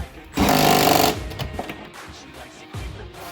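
Power tool tightening coilover nuts on a Honda Civic EX sedan: one sharp, loud mechanical burst lasting under a second, then softer clicks and handling noises, with a brief second burst near the end.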